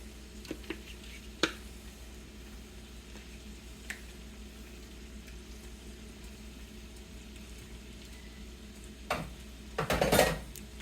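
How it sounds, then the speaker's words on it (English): A spoon scrapes out a container of guacamole with a few light clicks and taps, then a louder burst of close scraping near the end, with no talking. "Using the back of the spoon really cleans out that container."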